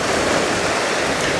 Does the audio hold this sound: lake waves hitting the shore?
yes